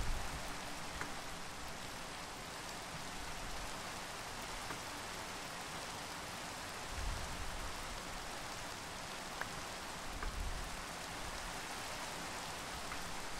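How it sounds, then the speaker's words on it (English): Steady rain in the Minecraft video game, a faint, even hiss of falling drops that carries on without a break, with no talking over it. "Oh, it's raining."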